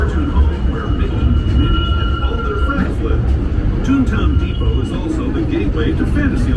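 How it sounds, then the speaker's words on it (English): A Disneyland Railroad train rumbles steadily nearby with low, continuous rolling noise and a faint high whine, while a voice speaks over it. "please wait until the train comes to a full stop"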